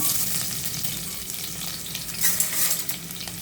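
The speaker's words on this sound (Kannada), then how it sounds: "ಆನಿಯನ್ ಸ್ವಲ್ಪ ಫ್ರೈ ಆಗಲಿ" Onion frying in hot oil in a pressure cooker on a stove, with a continuous close sizzle and light crackle plus occasional stirring scrapes.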